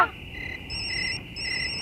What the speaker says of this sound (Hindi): फोन की आवाज तो वहीं से आ रही है।